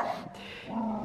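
A pet dog barks and whimpers on a balcony as the mail carrier arrives, a few short yelping calls close by with steady room noise.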